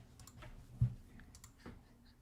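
Soft, scattered clicking of keys on a computer keyboard, a few taps spread out with one slightly sharper press, quiet and close by.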